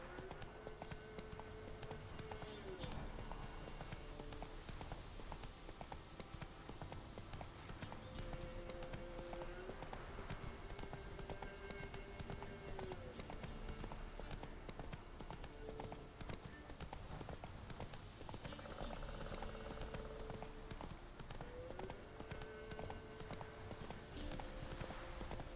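Roach the horse clip-clops steadily in Witcher 3: Wild Hunt, hooves beating in a continuous galloping rhythm, faint and distant-sounding, with soft tonal background music.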